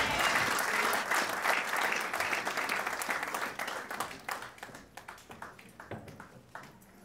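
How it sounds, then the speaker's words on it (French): A church audience applauds performers, dense clapping that starts loud and thins into scattered claps as it fades, with a few voices mixed in. "Est-ce qu'on peut les acclamer? Ils sont merveilleux."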